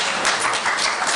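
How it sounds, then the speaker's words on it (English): Audience at a talk on healthy community policies breaking into applause, a brief, loud burst of many hands clapping together in a dense, continuous patter. "That's my first applause for that."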